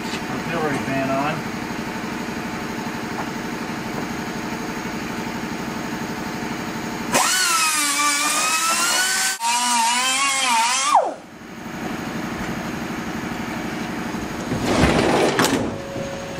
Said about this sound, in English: Cut the rivets off to hold the auxiliary fan on.